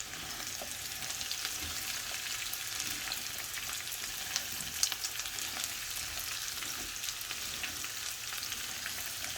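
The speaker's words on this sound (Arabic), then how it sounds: "معايا بصلايه كبيره متقطعه اهي، متقطعه مكعبات، هنزل بيها" Diced large onion frying in a pan while being stirred, a steady close sizzle running throughout with faint scraping of the stirring, loud and even with no talking.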